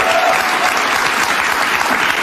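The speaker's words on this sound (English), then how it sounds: "his whole audience is applauding because they agree" A television studio audience claps loudly and continuously, a dense sustained wash of applause with no speech over it.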